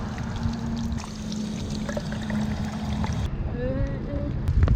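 Water pouring steadily while a bottle is filled at a roadside stop on a Japan bikepacking route from Nagoya to Kyoto, a continuous gush whose pitch rises toward the end as the container fills.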